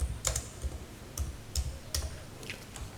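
Computer keyboard keys tapped in a short, steady run of light clicks, close and fairly quiet, with no voices.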